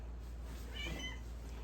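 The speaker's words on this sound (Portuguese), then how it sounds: "minha gata tá aqui" A cat gives a single soft, faint meow partway through, set against a steady low background hum in a quiet room.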